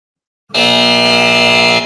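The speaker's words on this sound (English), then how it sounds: "Time for the final buzzer." A loud, harsh electronic arena buzzer blares once in a steady sustained tone for over a second after a moment of silence, like a final buzzer at a sports game.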